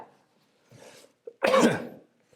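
A pastor's single harsh cough bursts out close by during a sermon after a quiet pause, preceded by a softer breathy sound.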